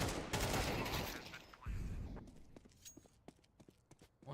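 AK rifle fire in the video game Counter-Strike 2, a quiet burst of rapid shots that fades into scattered faint clicks and footsteps.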